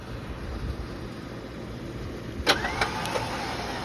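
A Badland winch from Harbor Freight spools out its cable with a steady mechanical whir, and several sharp clicks and clanks come in close over the last second and a half.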